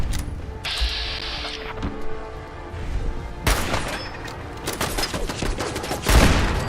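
Raiders open fire in Sim Settlements 2, loud bursts of gunshots arriving in irregular clusters with sharp cracks and mechanical clatter between them, close and intense.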